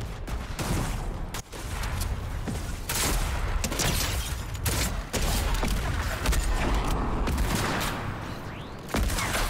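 Continuous gunfire in a Fortnite match, with repeated sharp shots and bursts layered over dense, loud game noise throughout, and no voices.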